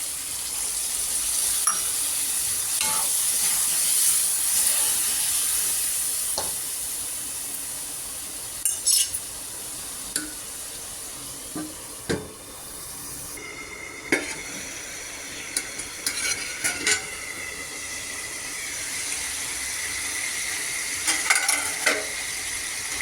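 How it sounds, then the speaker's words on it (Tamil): Chicken frying in a hot pan for a pepper-salt fry, with a steady loud sizzle throughout and scattered clinks and scrapes of stirring, the hiss changing partway as water is poured in. "சிக்கன் வேகிறதுக்கு கொஞ்சம் தண்ணி ஊற்றிக்கணும்"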